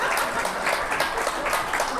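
A church audience at a Seoul archdiocese Holy Spirit prayer meeting lecture applauds, a dense, steady patter of many hands heard throughout with little letup.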